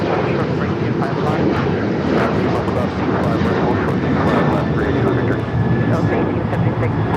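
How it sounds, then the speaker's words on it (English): Air China Boeing 777 freighter jet taxiing at Los Angeles International Airport, a loud continuous engine roar filling the scene with radio chatter and talk over it. "Air China, the 777 freighter crossed over 25 at left as well as 25 at right"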